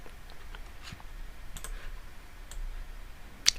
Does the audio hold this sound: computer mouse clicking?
yes